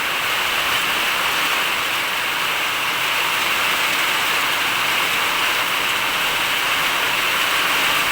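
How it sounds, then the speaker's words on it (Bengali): Heavy rain pouring in a steady, dense roar, loud and unbroken throughout with no voices. "বৃষ্টি হচ্ছে প্রচণ্ড"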